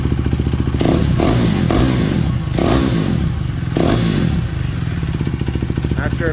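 A Husqvarna Svartpilen motorcycle engine with a Fuel X Lite module fitted, revved in several quick blips over a steady loud idle thrum, close by.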